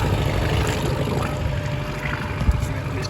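A 1971 Honda B75 7.5 hp antique outboard motor drones steadily as the boat slows, its low rumble mixed with water wash and wind buffeting the microphone, one brief knock near the end.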